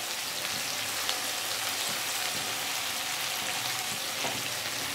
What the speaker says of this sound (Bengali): আরও কিছুক্ষণ আমি আলুটাকে ভাজা ভাজা হওয়ার জন্য কড়াতে রাখবো